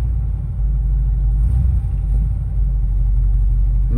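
A 1978 Chevrolet K5 Blazer engine idles roughly after a -25C cold start, a little flooded, with a steady loud low rumble and slight uneven surges throughout.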